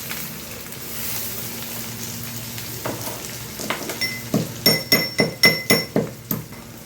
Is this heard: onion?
yes